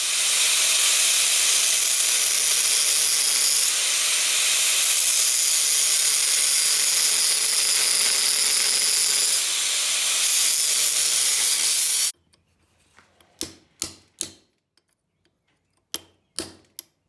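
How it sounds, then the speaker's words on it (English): An angle grinder cuts into an old steel file for a forged hunting knife, giving a loud, steady high-pitched grinding whine for about twelve seconds before stopping abruptly, followed by a few sharp clicks and taps. "I'm gonna take my angle grinder and try and cut out as much as I can."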